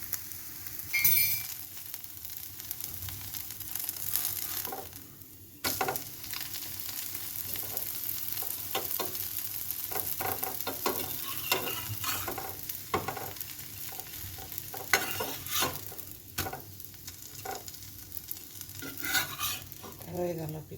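Chitai pitha rice cakes fry in a pan with a continuous sizzle, broken by repeated clinks and scrapes of a utensil, close and steady throughout with no talking.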